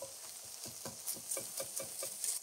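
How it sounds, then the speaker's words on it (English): Pork sears and sizzles in a pot for mapo tofu, with a steady frying hiss and a run of rhythmic scraping strokes as the meat is stirred against the stuck-on fond. "now that we've seared off our pork and we've got some good fond working at the bottom of the pot"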